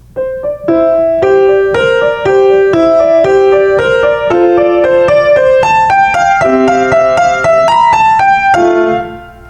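Piano melody in the right hand swelling gradually louder over steady accompanying chords, a continuous flowing phrase of clear, ringing notes played close and alone.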